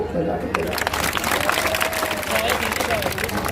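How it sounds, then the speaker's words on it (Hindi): A large crowd claps and applauds steadily at a public address, the dense clapping filling the whole stretch with cheers and voices mixed in. "इनके लिए भी ताली बजा दो"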